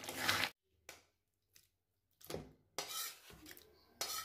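Cooked coriander chicken spooned into a bowl: a few short scraping and clattering bursts of a utensil against the dish, separated by quiet gaps.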